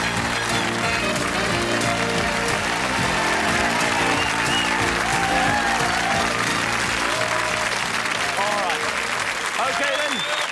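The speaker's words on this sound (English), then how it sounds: "Let's give them all a great round of applause." Studio audience on a British game show applauds loudly and steadily for a couple of contestants, a dense continuous clatter of hands lasting the whole stretch, with music and a host's voice faintly mixed in underneath.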